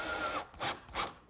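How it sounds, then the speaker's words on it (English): A power driver sinks screws into a wooden table top, short whirring bursts in a quick series of three, close and fairly quiet. "Now I'll just secure them with the screws."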